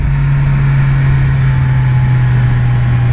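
A BMW S1000R motorcycle powering out of tight hairpin corners on a mountain road, its engine a loud, steady droning hum close by, heavy wind rumble underneath, no voices.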